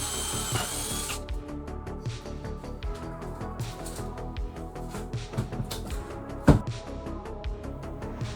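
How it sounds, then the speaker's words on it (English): A power drill whirs steadily after a brief opening burst, pre-drilling through wood, with one sharp knock partway through. "we're going to pre-drill through the wood"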